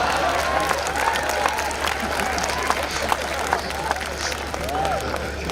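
A crowd at a Hindi poetry recital gives steady applause that runs continuously throughout, with faint scattered voices and whistle-like tones mixed in over a low electrical hum.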